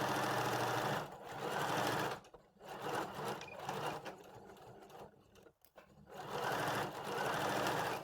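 A sewing machine stitches a puff sleeve seam in quick, fairly quiet runs of rapid mechanical chatter, stopping and starting several times with short pauses in between.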